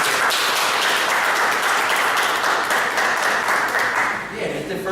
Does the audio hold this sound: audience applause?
yes